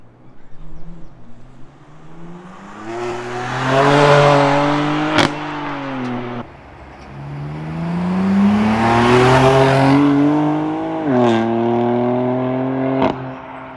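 A BMW F80 M3 on its stock exhaust revs up twice in long, rising pulls. The low, grumbly tone is loud and close, and each rise drops back between the runs.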